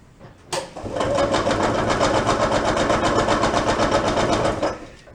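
Gas-powered barn-find golf cart engine cranking at full throttle during a compression test, a steady rapid mechanical chugging held for about four seconds, close and loud, then cutting off.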